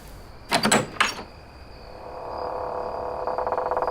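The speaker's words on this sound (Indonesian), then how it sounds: "Pintu depan dibuka." A front door being opened: a couple of sharp wooden bangs, then a long, drawn-out creak that grows slightly louder against a quiet background with a faint steady hum.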